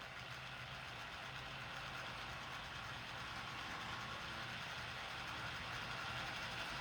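A small wind turbine generator clamped in a bench vise spools up, giving a steady, faint mechanical whir with a low resonant hum and no talking.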